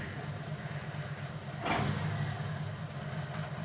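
A Harley-Davidson motorcycle engine runs steadily in first gear, a low, fairly quiet mechanical rumble with a brief surge in the middle before settling back to an even drone.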